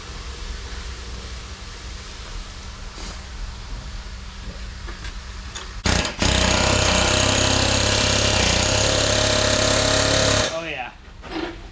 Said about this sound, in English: She's moving with the air gun now.